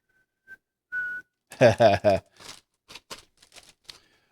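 A few thin, short whistle toots from Japanese whistle candy gum being blown, then a voice exclaims briefly, followed by soft rustling and tapping.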